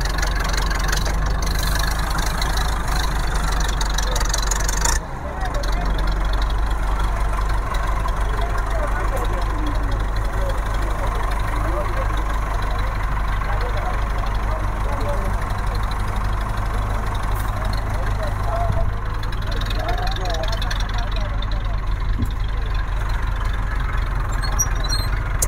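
An ATS 290 4x4 tractor engine idles steadily at a fair, a constant low rumble filling the whole stretch with a brief dip partway through, under crowd noise and voices.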